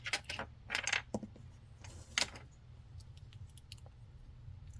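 Scissors snipping crochet yarn close up, a few quick metallic clicks and rustles of handling, then quiet.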